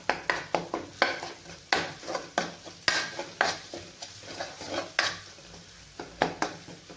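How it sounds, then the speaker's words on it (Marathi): Homemade masala is sautéed for a rustic ridge gourd curry: a spoon scrapes and knocks against the pan in quick irregular strokes over a soft, steady sizzle, close and fairly loud, with no talking. "मसाला थोडासा परतून घ्यायचा आहे आपल्याला"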